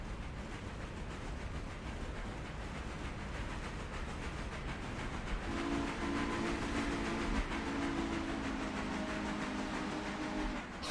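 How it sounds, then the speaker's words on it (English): A Berkshire steam freight train from the video game Railroader passes by, a continuous rumble and hiss of rolling cars with a steady tone entering midway, heard alone at moderate loudness. "Go see if we can just do a standby and let the whole train come by."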